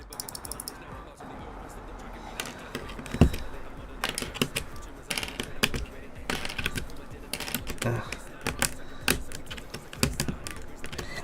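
Clicky blue mechanical key switches on an NK65 keyboard clack in quick, irregular bursts of sharp, close-up keystrokes, with brief pauses between runs of typing.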